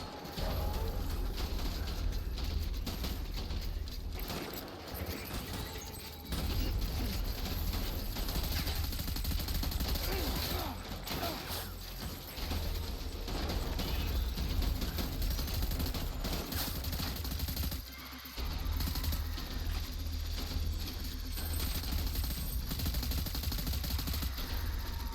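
Gunfire in the video game Death Stranding comes as sustained bursts and rattling volleys, with a continuous dense layer of shots and short breaks, moderately loud, with no speech over it.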